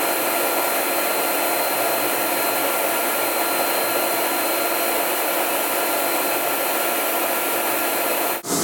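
Versa Spa tanning booth air-drying blower running as a steady, loud, even rush of air that holds unchanged for several seconds before cutting off at the end.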